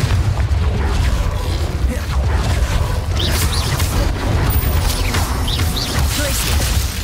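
Repeated Confringo explosion spells go off in Hogwarts Legacy as a continuous, loud barrage of booming bursts and crackling impacts layered over dense combat noise, with no pause between them.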